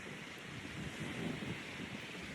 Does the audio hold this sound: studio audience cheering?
no